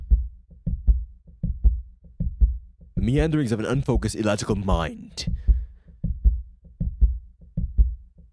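A steady, deep heartbeat thumps in paired pulses throughout a scene in The Lion's Song video game, continuing under a man's spoken line in the middle and carrying on alone after it.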